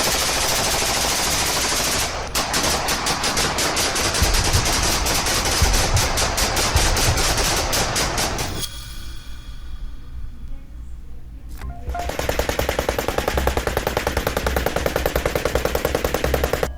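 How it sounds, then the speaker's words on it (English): Cartel gunmen fire rounds into the sky in long, rapid automatic bursts, loud and continuous, with a brief lull in the middle before the dense rattling volleys resume. "the group fires off a set of rounds into the sky"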